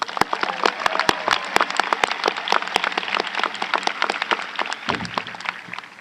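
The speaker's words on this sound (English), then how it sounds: "Let's give them another round of applause." A graduation audience at Arrowhead High School applauds, with sharp individual claps standing out over a busier bed of clapping throughout.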